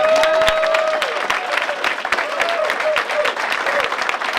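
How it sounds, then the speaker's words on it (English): Loud, close applause from a crowd, dense and continuous, with a faint whistle or cheer at the start and voices mixed in. "I get a round of applause for that?"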